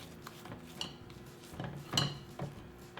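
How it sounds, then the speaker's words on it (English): A spatula scrapes around the sides of a mixing bowl of quick bread batter, giving a few soft rubbing strokes and one louder scrape, quiet and close, with no talking. "Give the sides a good scrape with your spatula."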